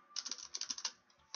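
Rapid clicking keystrokes on a computer keyboard, about a dozen close, crisp taps in a quick uneven burst, a short pause, then one more keystroke.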